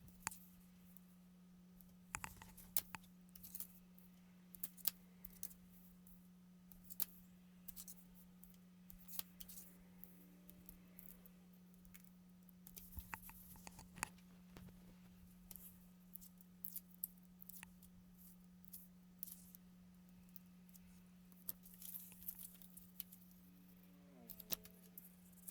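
Scissors snipping out a paper element for a junk journal, giving faint, scattered crisp cuts and small clicks over a steady low hum, spread irregularly across a long quiet stretch.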